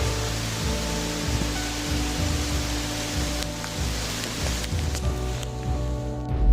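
Steady, dense hiss of rain pouring down, broad and continuous, with a low rumble and faint tapping underneath; no voices.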